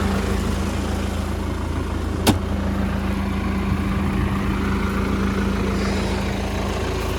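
A tractor engine idles steadily with a low, constant rumble and hum, broken once by a brief sharp click, during reed-bed clearing and tree-cutting work.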